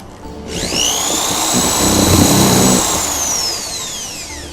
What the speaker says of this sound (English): We'll use a regular drill bit and come in and ream it out a little bit.